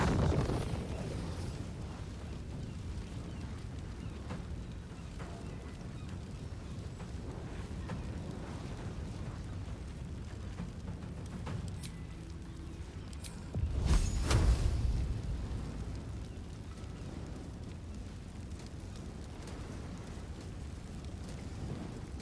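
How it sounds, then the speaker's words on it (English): Fire magic from Baldur's Gate 3 lays down walls of fire, a low, steady crackling roar that runs throughout, with one brief louder whooshing burst partway through and no voices. "2 overlapping walls of fire"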